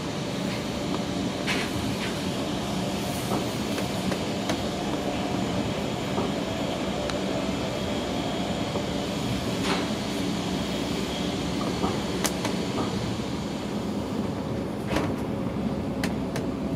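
Interior ride on a Deutsche Bahn Intercity 2 double-deck train running on rails from Konstanz toward Dortmund, a constant rumbling roar with faint clicks and rattles scattered throughout at steady loudness.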